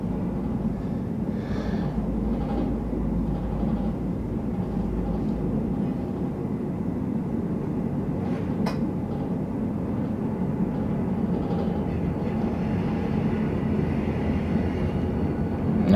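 Steady, continuous rumble of empty garbage train cars rolling past at Elliott Bay harbor, with faint metallic rattles and a brief squeal midway; no voices.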